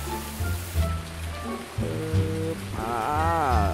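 Rain falls during digging work with a Yanmar ViO55-5B mini excavator, a soft, steady patter under a droning engine hum whose pitch rises and wavers near the end.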